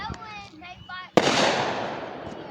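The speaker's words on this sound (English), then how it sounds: "Yay! Fireworks!" Fireworks burst in one loud sharp explosion, then a long crackling, hissing decay, preceded by a person's excited vocal sounds.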